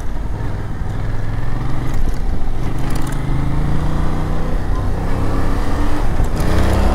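Yamaha Tracer 7 motorcycle being ridden on the road, a steady loud engine drone with rising and falling pitch under heavy wind rush.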